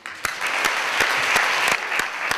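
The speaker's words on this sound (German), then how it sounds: "Dein Applaus." An audience at the Prix Chronos 2011 award ceremony applauds, with dense steady clapping and a few sharper claps standing out over about two seconds.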